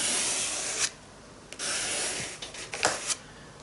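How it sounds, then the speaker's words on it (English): A card scrapes dried gesso off an art surface, giving close, dry rasping strokes in bursts with short pauses between them, no voices. "So what I'm doing is just scraping off some of what I put there."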